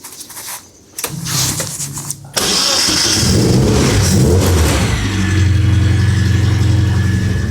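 A supercharged Mini Mayfair engine starting with a short cranking stutter, then catching and revving loudly up close before settling into a strong, steady, rumbling idle.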